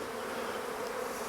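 Honeybees in an open hive hum in a dense, steady buzz from many insects at once, close and continuous throughout with no talking.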